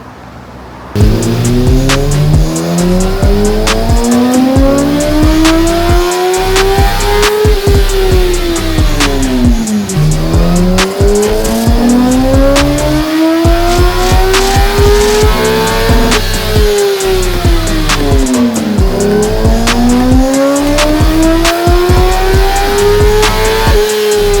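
A 2008 Yamaha R1 motorcycle engine screams through repeated full-throttle dyno pulls, three rising sweeps of loud, steady revving that climb high before dropping back, with no talk over it.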